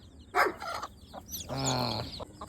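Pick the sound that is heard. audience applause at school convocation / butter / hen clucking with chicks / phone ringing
hen clucking with chicks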